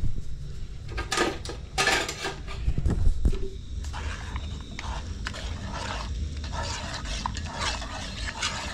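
Rice and other ingredients mixed in a cooking pot, a spoon scraping and clattering against the metal in irregular bursts, loud and close, with scattered knocks and a busier stretch toward the end.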